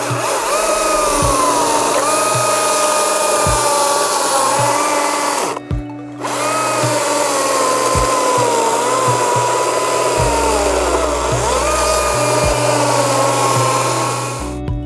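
A saw strips bark from a log, a loud sustained motor whine with wavering pitch and rhythmic knocks as it bites into the wood, briefly stopping once before resuming, close and alone.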